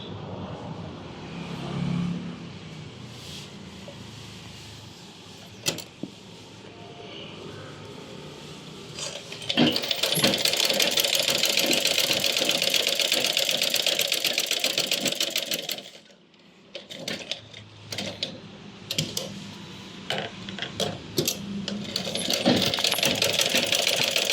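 Sewing machine stitching a 14-inch length of cloth, running in long continuous mechanical bursts with a brief pause midway, loud and close, with no talking.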